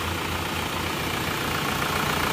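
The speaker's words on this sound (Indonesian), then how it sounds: "Ini mesinnya masih hidup." A car engine idles with its hood open, a steady dense rumble with a faint hiss on top, close and loud with no change in pitch throughout.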